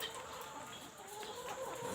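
Egg-laying hens cluck steadily on a chicken farm of about two hundred birds, a dense and continuous flock chatter at moderate distance with no talking over it.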